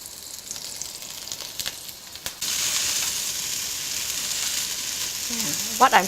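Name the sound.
frying brinjal (eggplant) in oil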